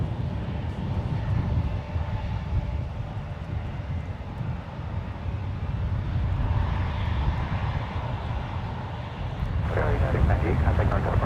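A Cessna Citation 560 business jet departs runway 28 right at San Francisco International, its engine roar a steady wash that swells toward the end, with a voice talking faintly underneath.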